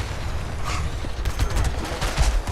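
The Pepper Shaker, a rapid-firing revolving gun in Fallout 76, letting off quick repeated shots in a dense rattling stream, fairly loud and close, with no talking.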